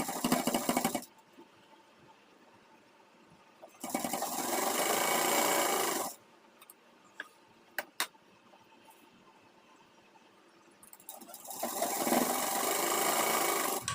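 A sewing machine stitches a fold along an Afghani salwar belt in three loud, steady bursts of close mechanical whirring, separated by quiet pauses with a few sharp clicks.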